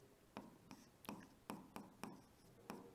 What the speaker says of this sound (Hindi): मैं लिखता हूं डिस्क